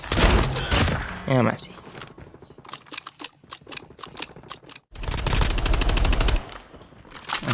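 Rapid automatic gunfire bursts in Call of Duty Mobile on the Alcatraz map, loud crackling volleys interspersed with sparse single shots, while a player talks over the action.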